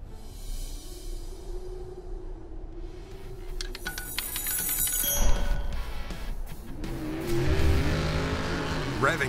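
Off-road race vehicles at the Mint 400 desert race rev and roar loudly, surging and passing close, with voices partly heard under the noise.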